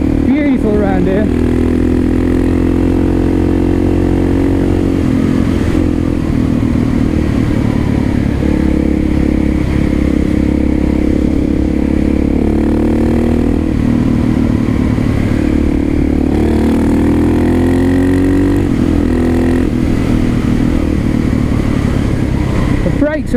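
A KTM 660 SMC single-cylinder motorcycle engine drones steadily and loudly on the move, its pitch rising and falling with the throttle, while a rider talks over it throughout.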